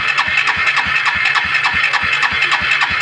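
A Honda CB110 motorcycle engine runs at a steady idle, its loud, close, even exhaust pulses thudding in a regular rhythm with no talk.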